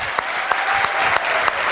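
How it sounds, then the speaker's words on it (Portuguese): Church congregation applauding together, a steady dense wash of many hands clapping with a few sharper claps standing out, close and loud throughout. "Uma salva de palmas para eles"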